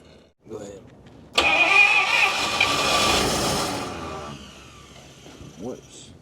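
A 1950 Cadillac engine, left sitting for 42 years, cranks and catches with a sudden loud roar that holds for a few seconds and then settles lower, heard close by, with voices around it.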